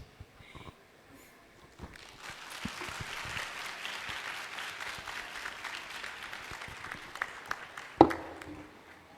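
Audience applause after a panel discussion at a tech expo rises from a few scattered claps into moderate, somewhat distant clapping that carries on steadily, with one sharp knock near the end.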